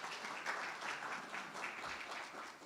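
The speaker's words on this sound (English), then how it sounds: "give her a round of applause as she comes up" Audience applauding as a presenter comes up to speak during a live school session, a continuous even round of clapping at moderate volume.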